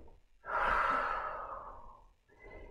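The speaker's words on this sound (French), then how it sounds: "Inspirez. Et soufflez." One long, deep exhale during a balance exercise in a fitness session, loud and close, rising fast and slowly fading, followed by the start of a softer breath.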